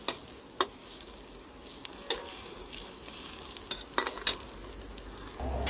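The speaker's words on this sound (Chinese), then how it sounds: "炒一个腊肉，炒一个白菜啊" Cantonese sweet cured pork is stir-fried in a pan, giving a steady close sizzle with repeated sharp scrapes and clacks of the spatula against the metal at an irregular rhythm.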